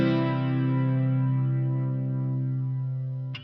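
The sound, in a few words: Line 6 Helix guitar chorus effect at slow speed, high depth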